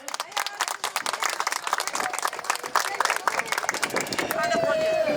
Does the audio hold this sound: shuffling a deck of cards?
no